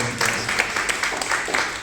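Congregation applauding during a Sunday church service, a steady wash of clapping with some voices mixed in, fairly close and sustained throughout.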